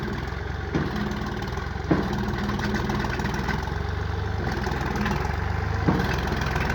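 A parked tractor's engine idling with a steady low rumble, close and continuous, with occasional soft knocks and no one talking.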